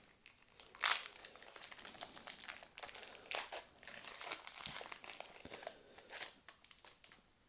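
Crinkly plastic wrapper of a Pokémon card booster pack from an Astres Radieux display being torn open, with bursts of crumpling and tearing rustle close up, loudest near the start and recurring in irregular bursts throughout.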